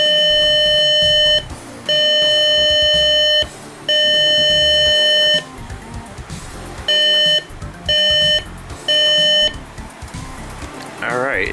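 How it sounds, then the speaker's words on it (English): SOS alarm of an Eton SolarLink FR600 Black Edition radio: a loud, piercing electronic tone sounding in repeated long pulses with short gaps, the bursts shortening toward the end, close and alone. "the S.O.S Alarm on the Eton SolarLink FR600 Black Edition"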